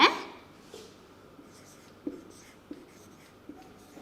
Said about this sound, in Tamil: நான் ஒன்று எழுதுகிறேன்